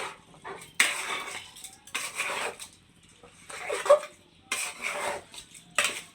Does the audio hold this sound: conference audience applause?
no